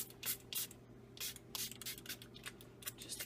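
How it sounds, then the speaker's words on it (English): Rubbing alcohol is sprayed onto soap molds in short hissing bursts, about eight quick squirts at an uneven pace, close and fairly quiet against a faint steady hum. "I am going to spray my molds with rubbing alcohol"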